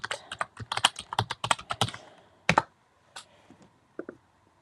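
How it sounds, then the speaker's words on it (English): Rapid keystrokes on a computer keyboard come in a quick burst, then a pause and a few scattered clicks, close and crisp with no voices. "Always helps if you can type as well."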